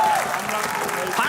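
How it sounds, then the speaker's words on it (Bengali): A studio audience on a comedy talk show applauds loudly, a dense patter of clapping that fills the moment, with a voice cutting through over it. "শিমুল এবং পাশার জন্য জোরে তালি"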